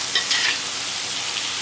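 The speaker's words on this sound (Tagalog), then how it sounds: "Ngayon, pwede na natin siyang haluin." Tomatoes and vegetables for Filipino pinakbet stew are stirred in a pot, a brief close sizzling hiss with a soft scraping stir at the start, no voices.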